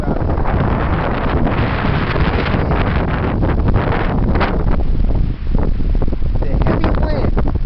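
Heavy wind blowing outdoors in cold weather, a loud, steady roar of gusts buffeting the microphone throughout, with a brief dip near the end and a voice speaking faintly under the noise.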